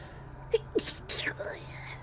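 A single short sneeze, followed by soft murmuring voices close by.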